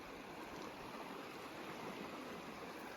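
The Rocky River flows in a steady, broadband rush close by with no break, with no voices present.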